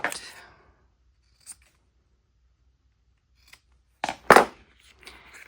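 Scissors snip notches into a curved edge of leather for a sling, a few short sharp cuts near the start and a quick burst near the end, close and fairly quiet with silence between.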